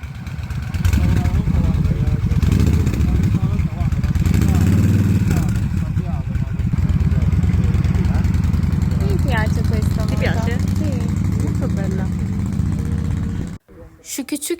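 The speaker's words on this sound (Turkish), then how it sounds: "bu motorun sesini çok beğendim. Şunu bir dinleyin." A motorcycle engine runs steadily and loudly for most of the clip, with a low rumbling drone, then cuts off abruptly near the end.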